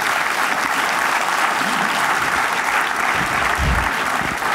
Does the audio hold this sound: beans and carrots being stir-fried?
no